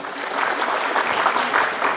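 Audience applause for three teams from Tabanan, Gianyar and Jembrana at a Bali quiz semi-final, a steady dense patter of clapping that holds evenly for about two seconds without a break.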